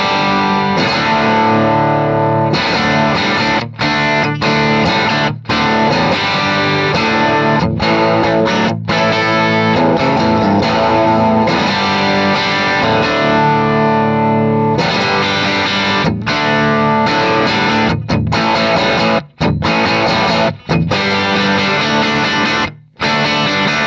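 Distorted electric guitar through a replica Marshall JTM 50 Super Lead amp, playing loud, continuous riffs with short choppy breaks and sustained chords, no talking.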